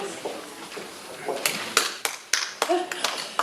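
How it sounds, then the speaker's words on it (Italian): A Christmas concert audience breaks into scattered hand claps that build into a few sharp, close claps, with voices talking underneath. "È un applauso"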